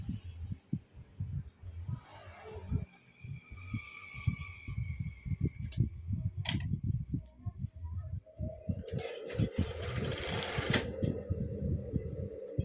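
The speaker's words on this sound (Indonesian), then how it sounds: "Kita jahit keliling ya sampai ke ujung satunya." A sewing machine runs steadily, stitching around the hem of a mermaid skirt with a fast, even mechanical throb, and a brighter rattle joins toward the end.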